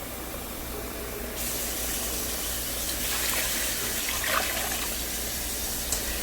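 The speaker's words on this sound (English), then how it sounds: "I'm going to add enough water to cover it" Water running steadily into a pot to cover birria meat, a continuous close hissing pour that grows slightly louder partway through, with no talking.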